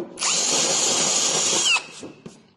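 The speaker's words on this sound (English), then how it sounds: "So by using a drill bit, a small drill bit, and running on the outside, we're not making the hole bigger." A power drill with a small bit whines steadily for about a second and a half while cleaning out holes in a 1978 Bronco body, then winds down with a few faint clicks.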